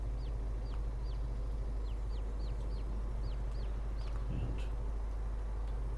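Chickens cluck and peep repeatedly in a farming video game, the short calls scattered across the whole stretch over a steady low background hum.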